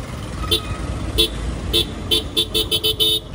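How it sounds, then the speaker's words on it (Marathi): Road traffic crosses a bridge, with repeated short car horn toots in quick succession over a steady rumble of passing vehicles. "ट्रॅफिक आहे या ब्रिजवर"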